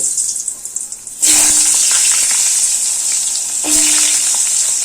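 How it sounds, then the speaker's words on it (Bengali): Long-cut potato strips dropped into hot oil, a sudden loud hiss that settles into a steady bubbling sizzle, with a second surge of sizzling partway through, close and unaccompanied by talk. "এবার আলুগুলো এই তেলে ভেজে নেব।"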